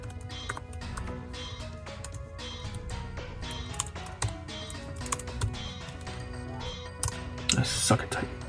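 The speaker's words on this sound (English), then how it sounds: "I suck at typing." Keys clatter in quick, uneven bursts of typing on a computer keyboard, with louder clicks near the end and faint background voice.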